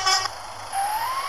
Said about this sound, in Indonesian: keren guys klaksonnya teman-teman